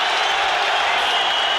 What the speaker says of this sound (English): The crowd aroused here now